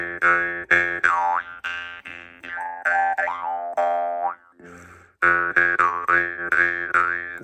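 A jaw harp, blown into while played, twangs in a steady rhythm of repeated plucks, its pitch bending and warbling between notes, with a brief breathy pause midway.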